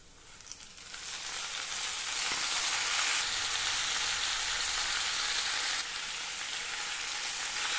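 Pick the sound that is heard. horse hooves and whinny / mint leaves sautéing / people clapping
mint leaves sautéing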